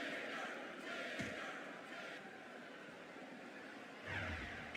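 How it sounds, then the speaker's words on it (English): Steady arena crowd roar from a wrestling video game, SmackDown vs Raw 2008, during a buried alive match: a constant wash of distant cheering and murmur with no clear individual voices. "This capacity crowd is making their opinions known tonight."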